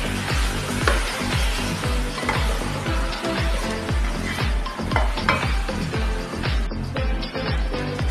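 Food is stirred in a frying pan with quick, rhythmic scraping strokes over a steady, close sizzle, with no talking.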